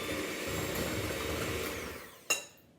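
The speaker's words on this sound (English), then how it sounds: "Let's go for the electric whisk." An electric whisk mixing biscuit dough in a bowl gives a steady motor whir with rough grinding texture for about two seconds, then stops with a sharp knock and a fading ring.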